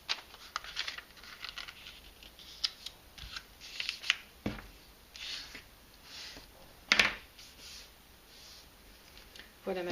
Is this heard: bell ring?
no